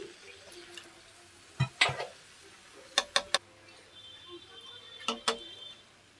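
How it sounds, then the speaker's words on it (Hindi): A utensil scrapes and clanks in a pan while fried cauliflower and potato sabzi is stirred on a gas stove, giving a few sharp knocks over a faint sizzle. "और सब्जी को अच्छे से चला लेते हैं।"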